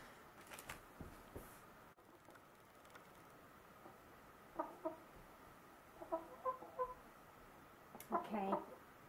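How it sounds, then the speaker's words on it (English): A hen that lays eggs clucks in short bursts, soft and a little distant at first, then louder and more rapid toward the end, over faint background shuffling. "I'm going to go get the chicken."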